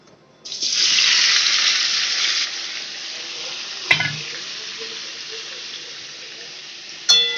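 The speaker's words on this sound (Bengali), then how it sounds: "ঘি গরম হয়ে গেছে আমি এই সেদ্ধ করে সেদ্ধ করা আলুটা দিয়ে দিচ্ছি" Boiled potatoes dropped into hot ghee burst into a loud, bright sizzle that eases into a quieter, steady fry, with sharp clatters of a utensil against the pan nearby.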